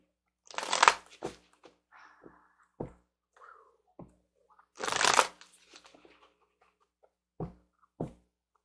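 A tarot card deck is shuffled up close in two loud riffling bursts, followed by scattered light taps and soft card handling sounds in an otherwise quiet room.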